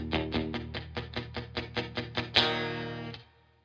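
Palm-muted electric guitar chord, fretted with a left-hand chord shape in a basic rock-and-roll style, chugged in an even run of about a dozen short, damped strokes, then one open ringing strum that fades out.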